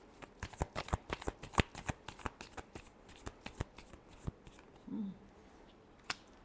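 Tarot cards shuffled by hand in a quick series of crisp riffling slaps and flicks, close and fairly quiet, with no talking.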